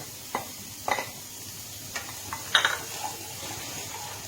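Semolina is stirred into a frying pan with a few separate scrapes and clinks of the spoon over a faint, low sizzle, close and sparse with no talking.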